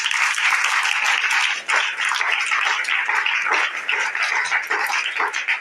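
A church congregation applauds at a French-language prophetic teaching service. Steady, dense clapping from many hands carries on for several seconds at an even level, with no speech over it.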